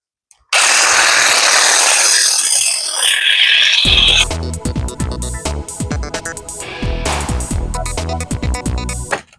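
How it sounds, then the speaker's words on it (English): A battery-powered hedge trimmer runs with a loud buzzing whine in an allotment, then chatters and snaps through branches with irregular crackling cuts, close to the listener. "Can't beat a good hedge trimmer, battery powered."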